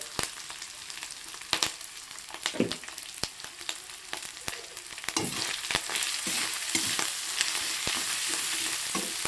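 Spices with rui fish curry and drumsticks sizzle and fry in a pan, with a loud, continuous crackle and scattered stirring scrapes that grow denser and steadier in the second half.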